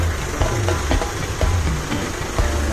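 A new Massey Ferguson 4708 tractor, said to have an issue, runs with a steady low diesel rumble and periodic knocking pulses, loud and close, with no talk over it.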